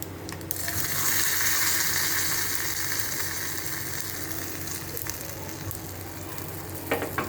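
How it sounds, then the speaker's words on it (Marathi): Mustard seeds, cumin, curry leaves and cloves sizzle steadily in hot oil, a loud continuous frying hiss with a few faint crackles and stirring knocks near the end, no voices. "हाय फ्रेंड्स, तुम्ही बघू शकता कसा वघार होत आहे. राई, जिरा, कढीपत्ता, लवंग"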